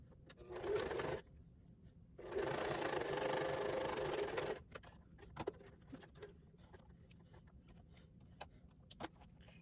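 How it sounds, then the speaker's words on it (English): Sewing machine stitching a zipper onto fabric, two bursts of rapid mechanical whirring, one short and one longer, followed by quiet clicks and small handling noises. "go ahead and tack the bottom of the zipper at the bottom of the fabric by sewing back and forth across it"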